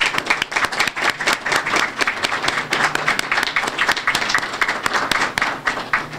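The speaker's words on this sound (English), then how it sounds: "let's give a round of applause for all the middle school poets" Audience clapping loudly for middle school poets at a library poetry awards evening, a dense, steady round of applause from a roomful of people lasting several seconds.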